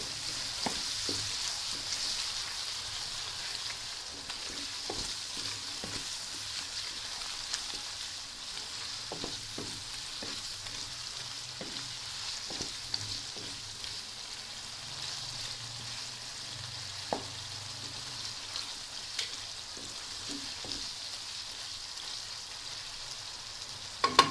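Potatoes cook with kasuri methi and spices in a pan, giving a faint, steady sizzle. Occasional soft clicks and scrapes from stirring come through sparsely, with no voices.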